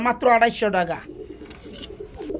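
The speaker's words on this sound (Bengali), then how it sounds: "ঢাকায় থেকে আগত ঢাকাইয়া লাল পাত্রের গ্রিবাস কবুতর, একদম ডাকের কবুতর" Someone speaks briefly, then Dhakaiya red Gribaz pigeons keep up low, soft cooing at a pigeon sale.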